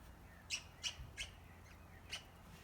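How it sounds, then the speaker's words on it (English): Birds chirp outdoors in short, faint bursts, about four quick calls spaced through a quiet background, with no talking. "Lots more birds fluttering around."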